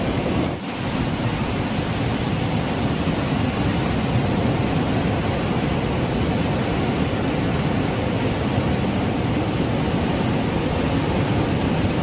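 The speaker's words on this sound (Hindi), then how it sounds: "पानी करंट बहुत तेज है" Fast, powerful Lohit River current rushing at Parshuram Kund in Arunachal Pradesh: a steady, loud, unbroken roar of churning water and surf-like wash that fills the whole clip with no voices.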